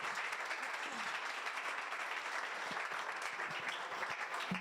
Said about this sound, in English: Can we all please give Shay a big round of applause?